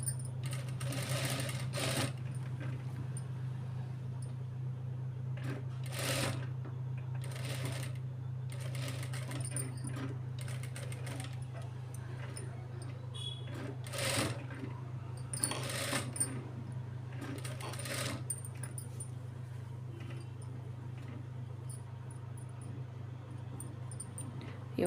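A sewing machine stitching a child's lehenga blouse, a steady close motor hum with intermittent bursts of needle clatter, in quiet surroundings with no talk.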